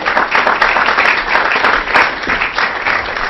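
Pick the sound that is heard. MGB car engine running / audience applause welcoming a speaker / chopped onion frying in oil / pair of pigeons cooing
audience applause welcoming a speaker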